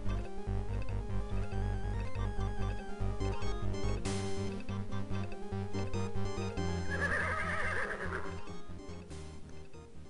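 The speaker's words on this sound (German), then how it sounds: "das arme Pferd, drei so fette Leute da drauf." A horse in the King's Quest VI adventure game neighs and whinnies while hooves clip-clop, all layered over steady game music with no talking.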